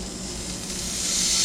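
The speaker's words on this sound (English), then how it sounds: "Ooh, listen to that sizzle." A New York strip steak sizzles in a hot pan with no added oil, producing a steady, close hiss that grows slightly louder over a second and a half, with no talking.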